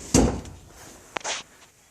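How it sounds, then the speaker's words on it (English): The seat of a 1980 Jeep CJ5 with a custom welded roll cage makes a sharp thud as it is opened. A second, lighter clunk and rattle follows about a second later. Both are close and clear, with no talk. "and then if I open up the seat"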